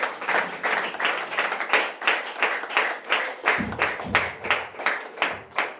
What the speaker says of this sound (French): Acclame pour la parole de Dieu.